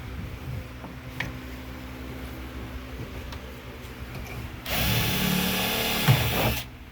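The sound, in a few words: power drill drilling pilot holes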